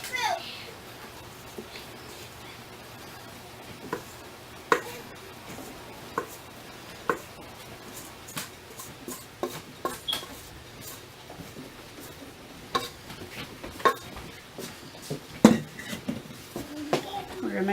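White bread dough being kneaded on a floured surface, with soft irregular thumps and pats repeating across the stretch, while a person talks over them.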